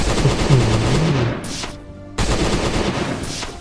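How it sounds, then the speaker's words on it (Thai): Sustained rapid gunfire in the zombie survival game Last Day on Earth, loud and continuous, a pistol or Uzi firing at a boss inside a bunker, with a short break midway before the shooting resumes. "จังหวะนั้นแหละอัดปืนใส่ไปเลยเต็มที่นะ"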